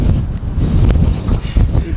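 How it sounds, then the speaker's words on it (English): Strong gusty wind buffeting the microphone outdoors, a loud low rumble that swells and dips with the gusts throughout. "Be careful of the wind. She's blowing hard today."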